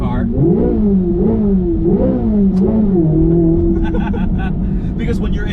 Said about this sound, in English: you can pull it and rev the car